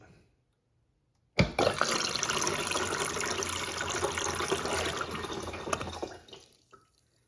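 After a quiet start, a toilet flushes with a sudden loud whoosh of rushing water that churns steadily for several seconds, then drains away and fades.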